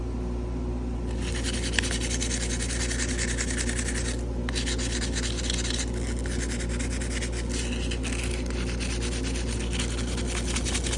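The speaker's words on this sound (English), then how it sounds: "Now I'm going to sand that down some more." A Case XX Stockman knife is sanded with a continuous, steady rubbing rasp that stays close and even for the whole stretch, with a brief pause partway through and no talking.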